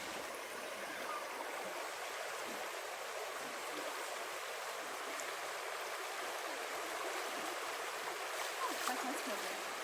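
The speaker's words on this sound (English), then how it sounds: "Our first creek crossing where we have to forge the river" Creek water flows and burbles steadily at a creek ford on the Appalachian Trail, a constant rushing wash with faint trickling detail, no voices.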